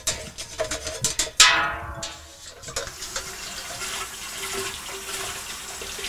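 Hot water pours into a metal beer keg during cleaning, a loud gushing splash with a rising filling tone that settles into a steadier trickle, preceded by a few knocks.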